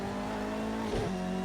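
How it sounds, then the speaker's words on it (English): Bentley Speed 8 race car in the Project CARS 2 video game at Bathurst, engine pulling hard in second gear with a steady high drone and a brief dip mid-clip, alone and fairly loud. "Second gear, get it tucked in on the gas."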